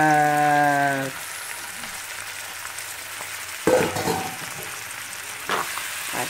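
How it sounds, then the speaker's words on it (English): Ackee and saltfish fry in a pan in a home kitchen, a soft continuous sizzle after a short tonal hum at the start, with a couple of brief louder clatters of a utensil. "Ackee and saltfish is going down in my kitchen"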